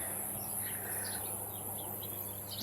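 Cicadas buzz and chirp outdoors in a continuous high, thin drone, with a few faint bird chirps scattered over the steady background.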